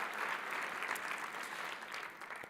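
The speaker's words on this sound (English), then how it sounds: "please join me, a round of applause for Doug" An audience at a gala dinner for a housing nonprofit in California claps steadily throughout, a dense, even wash of applause from a large crowd that holds at a moderate level and tapers a little toward the end.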